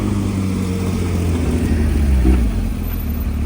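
A Porsche GT3 RS ring taxi at the Nürburgring, heard as a steady loud engine drone close by that swells slightly near the end, with no talk.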